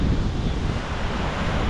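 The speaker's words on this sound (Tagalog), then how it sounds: "sobrang lakas din ng alon." Strong surf and gusting wind at a seaside in Kuwait as rain moves in, a steady, loud roar of crashing waves with heavy wind buffeting the microphone throughout, no voices.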